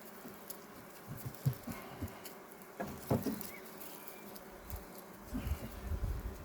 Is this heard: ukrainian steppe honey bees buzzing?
yes